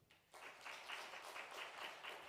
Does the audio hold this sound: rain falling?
no